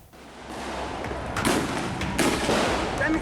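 Several sharp booming blasts of police tear gas launchers breaking up a protest, fairly close, followed by broad rushing noise and crowd-like roar, without clear speech.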